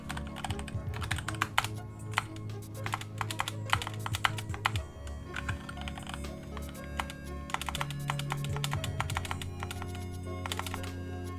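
Steady typing on a computer keyboard during a software development stream, with rapid clusters of keystrokes in irregular bursts for about eleven seconds, close and moderately quiet, over a low background hum.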